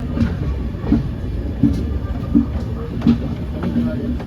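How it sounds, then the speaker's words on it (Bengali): Train leaving the platform on the Vizag to Araku railway, a steady rumble with regular clickety-clack wheel beats over rail joints roughly every 0.7 seconds, fairly close and continuous. "একদম পারফেক্ট টাইম ছটা পঁয়তাল্লিশে ট্রেন প্ল্যাটফর্ম ছাড়লো"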